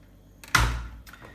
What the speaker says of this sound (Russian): Вот открываешь дверь, и эта ленточка скользит по этим пластиковым, пружина возвращает.